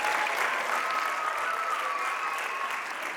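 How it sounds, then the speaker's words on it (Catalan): An audience applauds a band at the Premi Sambori 2022 event, a dense, steady wash of clapping that stays loud and even from start to finish. "Un aplaudiment per a ells."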